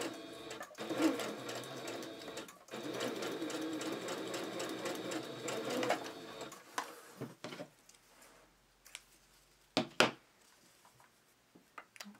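A sewing machine runs a gathering thread on a doll dress, humming steadily and close for several seconds before stopping, then a few short clicks and bursts as the work is handled.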